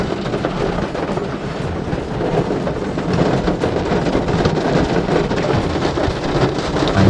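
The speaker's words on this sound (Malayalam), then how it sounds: "ഇപ്പോഴും പുറത്ത് ഭയങ്കര മഴയാണ്" Heavy rain pours outside in a steady, dense roar that stays loud and continuous throughout, with a low rumble underneath.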